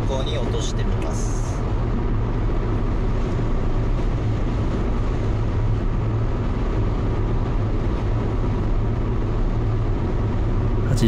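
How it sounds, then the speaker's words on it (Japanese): Steady cabin drone from a second-generation Suzuki Hustler Hybrid X Turbo 4WD cruising at 80 km/h, with continuous engine and road noise holding at an even level throughout. "80キロ巡航時の音はこんな感じですね。"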